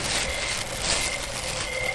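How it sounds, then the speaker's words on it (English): Cricket chirping from a sound machine, carried over a baby monitor, forms a dense, steady, hissy drone that stays loud and unbroken throughout the short stretch. "It might be that I got the baby monitor over here with the crickets in the background and stuff."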